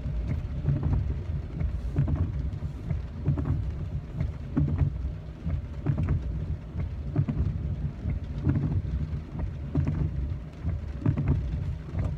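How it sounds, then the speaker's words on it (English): Steady rain falling with a constant dense hiss and patter, mixed with low wind rumble. "Rain."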